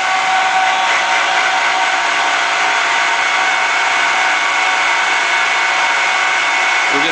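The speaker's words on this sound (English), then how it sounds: "we're going to turn the spindle speed up, and we're going to go ahead and cut our angles right onto that seat" A valve seat cutter spins at high spindle speed, cutting angles into the seat of a cylinder head during a three-angle valve job, making a loud, continuous, steady whirring grind throughout.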